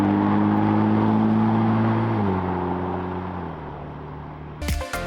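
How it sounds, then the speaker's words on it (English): Ferrari F171 twin-turbo V6 engine, a steady loud drone with falling tone steps as the revs drop over several seconds, ending with a brief burst of noise. "As you can hear, it's got the twin-turbo V6 sound and actually doesn't sound bad."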